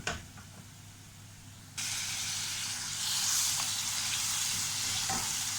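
Squid added to a hot pan of chili powder starts frying: quiet background, then a sudden broad steady sizzle that swells slightly and holds, close up with a few faint utensil clicks.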